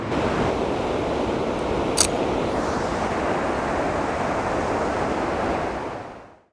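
A waterfall seen behind a tree in an outdoor setting gives a loud, steady, broadband rush of falling water that runs unbroken before fading out near the end, with no voices.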